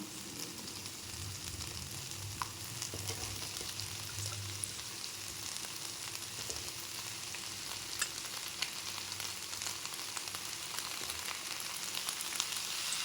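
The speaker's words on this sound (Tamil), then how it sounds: "கத்திரிக்காய் ஆட் பண்ணிக்கலாம்" Brinjal (eggplant) fries in a pan with a soft, continuous crackling sizzle and faint pops. It is quiet and steady throughout, with no voices.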